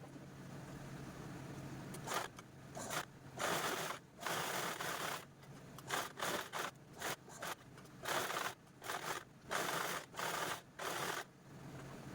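A sewing machine stitches the folded-in base of a handmade purse in repeated short bursts of rapid mechanical whirring, separated by brief pauses, close and fairly loud with no talk.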